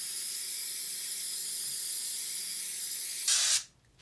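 Spray-on drywall foam hissing steadily out of an aerosol can onto a wall, a continuous loud spray lasting several seconds before a final sputtering burst and abrupt stop.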